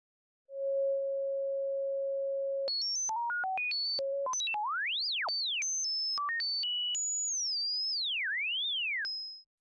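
Sine oscillator tones built in Pure Data for an R2D2-style robot voice: a steady held beep, then rapid jumps between high and low pitches and swooping chirps, pure and electronic, continuous and alone.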